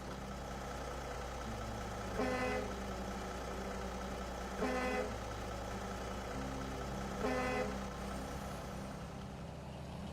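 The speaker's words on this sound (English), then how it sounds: "Can you honk the horn? I want to hear it." Horn of a Kenworth T880 or C500 truck in the SnowRunner driving game, sounding three times in evenly spaced blasts about two and a half seconds apart over a steady idling engine rumble, with no talking.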